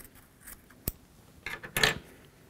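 Round-tip scissors snipping a bunch of fur for pike fly tying; a sharp single snip followed by a couple of crunchy, close cuts through the fibres, with quiet between.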